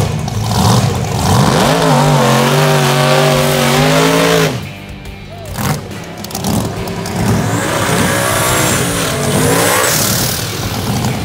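A loud no-prep drag race car engine fires up at a speedway and revs hard, rising and falling in pitch, then drops to a rough idle with further bursts of throttle nearby.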